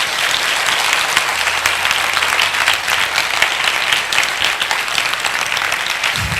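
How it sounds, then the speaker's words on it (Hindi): A church audience claps together in steady, sustained applause at a Hindi-language sermon, loud and dense throughout with no speech over it. "ए कम ऑन, यीशु के लिए ताली बजाएंगे मिलके।"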